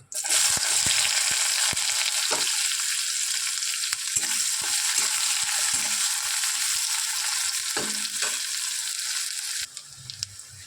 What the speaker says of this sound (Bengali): এবার আমি পেঁয়াজ কুচিটা দিয়ে দেবো, দিয়ে আমি একসাথে এটার সাথে ভেজে নেব।